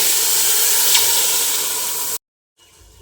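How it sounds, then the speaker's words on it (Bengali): Water hits ghee-fried rice in a hot pot with a loud, steady sizzling hiss that cuts off abruptly into near silence, followed by faint low bubbling. "সেই পর্যায়ে আমি জল দিয়ে দিচ্ছি"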